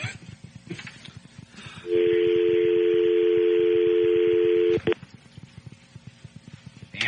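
Telephone dialing on a radio show: clear tonal beeps, then a long, loud steady tone of about three seconds that cuts off abruptly. Faint background voices murmur before and after.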